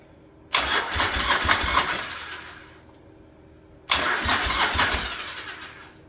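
A barn-find Yamaha Virago motorcycle, converted to a single carburettor and running with the choke on, cranks and catches twice, each attempt a rough, loud burst of engine noise lasting a few seconds before fading.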